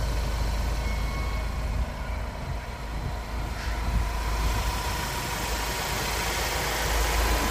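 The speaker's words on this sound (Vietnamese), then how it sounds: "vẫn đang để động cơ nổ máy" A Ford Ranger Wildtrak pickup truck's engine idles in a steady, continuous low rumble, close and fairly loud, with no voices over it.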